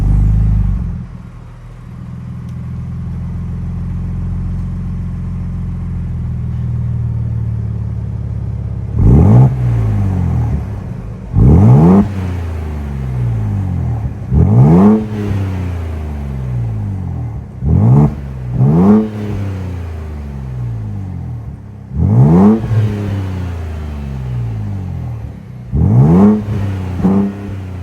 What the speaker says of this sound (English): that was the sound of the 3-liter twin-turbo EcoBoost V6 sold by Ford for the